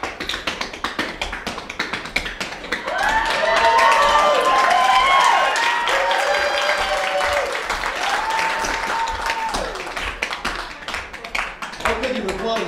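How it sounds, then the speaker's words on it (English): An audience claps and cheers after tap dance steps, a sustained swell of applause mixed with sharp tap clicks and voices, rising midway and tapering off. "How could you applaud if you didn't hear all mess ups?"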